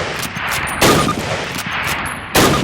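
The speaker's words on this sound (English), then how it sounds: "Fire 3 more rounds at your target." Rifle rounds fired in the Call of Duty video game: three sharp, loud reports spaced about a second apart, each with a short ringing tail, over a steady background of game ambience.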